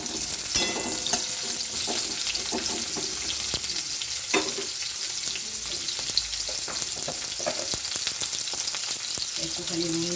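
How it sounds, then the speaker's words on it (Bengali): Bitter gourd frying in hot oil for a Bengali shukto, a dense, steady close-up sizzle with occasional crackles and faint stirring, and no talking. "তেলে করলা দিয়ে দিয়েছি ও করলাগুলো আমি ভাজছি।"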